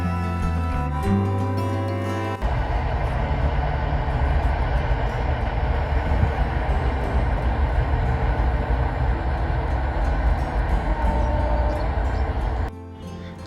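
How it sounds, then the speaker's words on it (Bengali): A train passes on a railway line beside a village football field, a loud sustained rumble and rattle of wagons rolling by for about ten seconds, starting abruptly and then easing off, with no talk. "দেখুন ট্রেন যাচ্ছে আমাদের ফুটবল মাঠের পাশেই আমাদের রেল লাইন"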